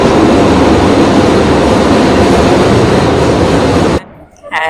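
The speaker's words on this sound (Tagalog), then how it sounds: "We're in the train. We're inside the train." Interior of a moving train in Japan, a loud continuous rumble and rattle of the carriage that drops away suddenly near the end, with a voice briefly audible afterward.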